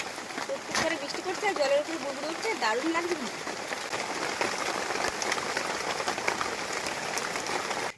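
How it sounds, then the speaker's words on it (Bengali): Constant hiss of sudden rain pattering on surfaces in a Sundarbans village, with a voice speaking over it at the start. "হঠাৎ করে সুন্দর বৃষ্টি চলে এলো"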